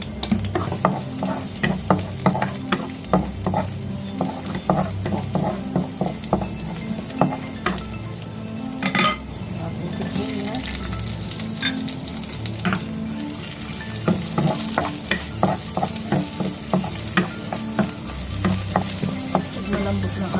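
Garlic frying in cooking oil for humba chicken, a loud close sizzle with repeated stirring scrapes and spatula taps against the pan, continuous throughout.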